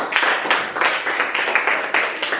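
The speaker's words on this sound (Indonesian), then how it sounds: "tepuk tangan untuk kelompok 3" A group of students applauds classmates at the end of a class presentation: a dense, steady patter of many hands clapping together, fairly loud and close, with no voices over it.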